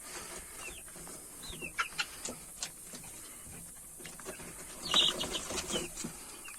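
Twenty to twenty-five Rhode Island Red chicks cheep in short, high chirps in a small space, close by, with soft rustling and a few louder peeps near the end.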